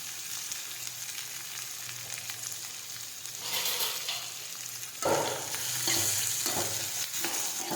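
Chopped tomatoes and grated ginger stirred in a sizzling pan, with a steady fry underneath and scraping spoon strokes that grow louder in the last few seconds.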